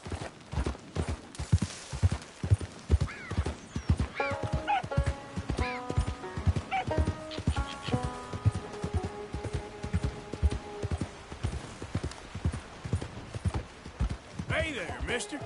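A horse trots in a video game, its hooves striking in a clear, regular clip-clop throughout, with a tonal musical or whinny-like passage in the middle and some voices in the background.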